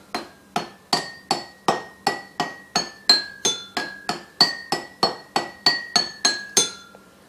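Drinking glasses are struck one after another in a quick, even rhythm, about nineteen bright clinks stepping down a musical scale, each ringing briefly and close.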